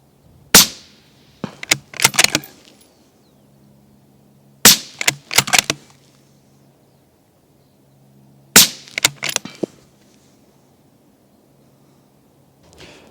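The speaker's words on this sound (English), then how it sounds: "I'm going to shoot the same target, the same distance." Rifle shots fired off a Tier-One ELR competition bipod at a single target, coming in three well-spaced groups; each opens with a loud sharp crack followed by several quicker, softer reports and action clatter, with quiet stretches between.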